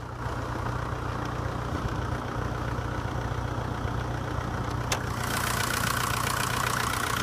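Engine of a 2002 Volkswagen Jetta, a 1.9 liter turbo diesel, idles steadily at close range with a dense, even clatter and a low hum throughout, and a single sharp tick partway through.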